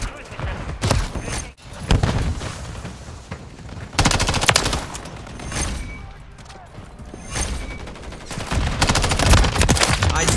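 MTZ 556 rifle fire in Call of Duty: Modern Warfare 3 comes in several sharp, loud bursts of rapid shots separated by short pauses, with game sounds and voices mixed in between.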